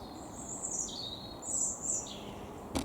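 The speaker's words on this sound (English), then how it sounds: "This is the birds all going crazy." Several birds chirp and sing in excited, overlapping high calls and short sweeping whistles over a steady outdoor background hiss, ending with one sharp click.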